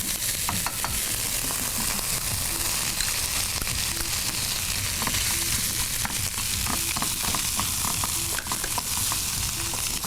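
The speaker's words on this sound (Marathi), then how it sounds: "बटरवरती फक्त आपल्याला थोडंसं परतून घ्यायचं आहे" Two lengthwise-sliced onions tossed in butter in a pan for a bhakri chicken roll sizzle loudly and steadily, with light clinks and scraping of a utensil running through the whole stretch.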